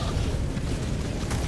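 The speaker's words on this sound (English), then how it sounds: "Dead to some random explosion" A random explosion in the video game Helldivers gives a muffled low rumbling boom with rattling debris and no voices.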